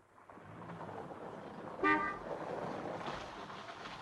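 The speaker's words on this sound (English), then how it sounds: "Oh, it sounds as if Ed's got your car going." A 1950s car is started after a choked carburetor is cleared, and the engine turns over with a low rumble. One short horn toot cuts in midway.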